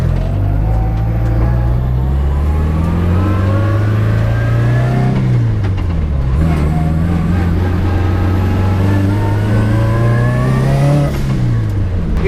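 A turbocharged FR-S engine roars loudly from inside the cabin, climbing steadily in pitch, dropping briefly, then climbing again in a second long pull while the turbo whistles faintly on top.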